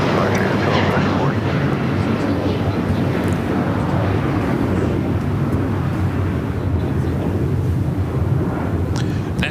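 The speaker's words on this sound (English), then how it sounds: "Takeoff on 25 right is Spirit Airlines. Flight 3787 heading to Detroit, Michigan. It is A320neo" An Airbus A320neo operated by Spirit Airlines takes off from runway 25 right at LAX, a steady, loud broadband jet roar filling the whole stretch without letup, with faint voices in the background.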